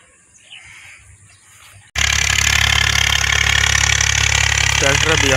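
A tractor pulls a plough through a wet field being prepared for maize. After a quiet start its engine cuts in loud and near, then holds a heavy, steady chugging rumble to the end.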